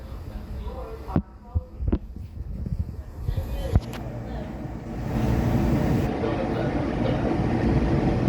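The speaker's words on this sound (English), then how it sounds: "Doors are opening. 69th Street train making all stops." A Philadelphia 69th Street train standing at a station with its doors opening: a few sharp clunks and knocks, then a steady low rumble and hum of the railcar that builds and holds.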